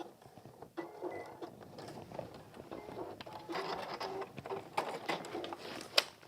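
A sewing machine stitches a messenger bag, a close, continuous mechanical whir with rattling and ticking, plus a sharper click near the end.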